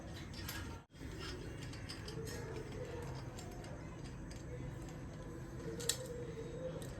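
Parts of a K3 mini air paint spray gun are fitted together by hand, producing close mechanical clicks and ratcheting scrapes over a steady background hum, with one brief gap and a sharper click near the end.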